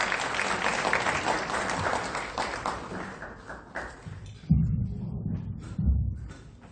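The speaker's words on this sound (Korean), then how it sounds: "큰 박수 부탁드리겠습니다." Audience applause at a business forum lecture by a laughter professor, steady dense clapping for about four seconds that fades, followed by a few thumps and quieter room noise.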